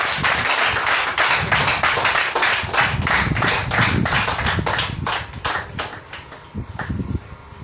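A church congregation in Nikki, northern Benin, claps in praise, a loud, fairly rhythmic run of hand claps close by, thinning toward the end with faint voices under it.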